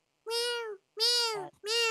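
A cat gives three clear, close meows in a row with short pauses between them, each a drawn-out tonal cry.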